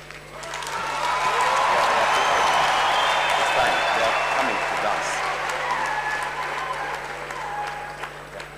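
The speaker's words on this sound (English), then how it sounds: "Please give them a clap." Sustained applause from a large audience greeting the class of 2023 at the University of Kigali's 8th graduation ceremony, a dense, steady wash of clapping that swells and holds for several seconds before easing slightly, with faint voices underneath.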